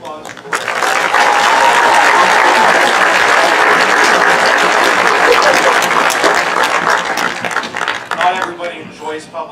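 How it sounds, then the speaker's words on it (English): A large graduation audience applauds the commencement speakers at a 2025 high school ceremony, a dense, sustained roar of clapping and cheering that holds steady for most of the stretch before thinning toward the end. "Take a moment to give all of our speakers one round of applause"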